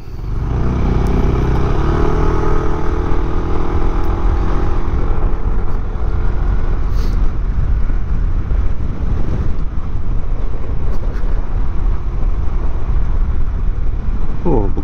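Steady engine drone and heavy wind buffeting from riding a Yamaha NMAX scooter, loud and continuous.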